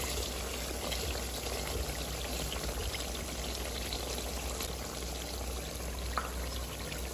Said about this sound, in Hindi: अब हम इसमें ऐड करेंगे दही।